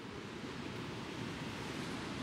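Big ocean waves at Bondi Beach in Sydney wash in as a broad, continuous surf roar, steady and moderately distant, with a windy hiss over it.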